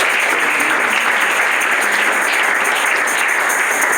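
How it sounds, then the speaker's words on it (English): A church congregation at a home group service claps hands together in steady, dense applause that fills the whole stretch, loud and close, with no talking over it. "Let's give a mighty clap of hands."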